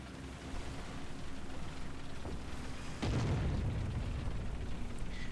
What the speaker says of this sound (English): the entire thing explodes like a nuclear bomb went off